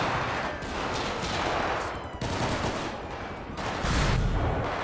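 Rapid gunfire from a SWAT raid on an abandoned motel in GTA 5, with bursts of automatic shots crackling continuously at a moderate level, punctuated by heavier reports.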